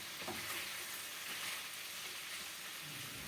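Steady, dense sizzling of potatoes frying in a hot pan, continuous and close, with no voices.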